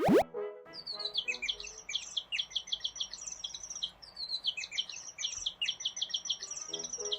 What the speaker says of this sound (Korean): 원래 플라밍고가 이렇게 새소리를 내나요?